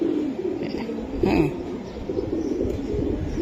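A female Beji pigeon coos softly and steadily close by, low rolling murmurs filling the clip with a faint bit of background noise.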